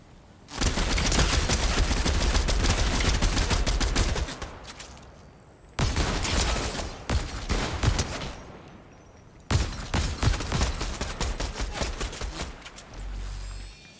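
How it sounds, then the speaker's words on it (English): Gunfire in the Fortnite video game, with three long bursts of rapid automatic shooting, loud and close, separated by short pauses, the first burst lasting several seconds. "Someone was shooting us in the back."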